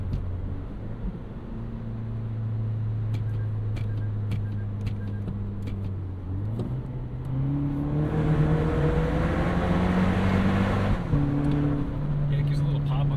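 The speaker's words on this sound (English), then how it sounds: "One more try for the exhaust here." A 2025 Toyota 4Runner TRD Pro turbo hybrid engine idles, then revs up twice in rising bursts with a throaty exhaust note, close by under a bridge, while a person talks over part of it.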